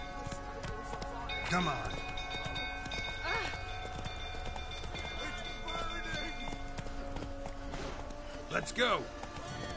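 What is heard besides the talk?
horse Roach galloping in a video game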